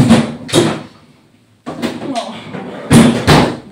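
A freezer door in a home kitchen opens and shuts while ice cream is put away, giving several dull thumps and clunks spread across a few seconds, with a voice speaking briefly between them.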